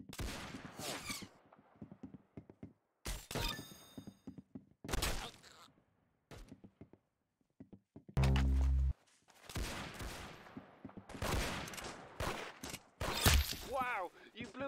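Gunfire from the Roblox game Arsenal comes in short, sharp bursts scattered among stretches of silence, with one heavier blast partway through and voices chatting between shots.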